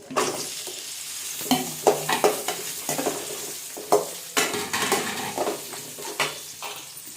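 Mustard seeds and green mango sizzle and crackle as they fry in a pan for a village-style mango pachadi, with repeated stirring scrapes and clinks against the metal, close and fairly loud, and no talking.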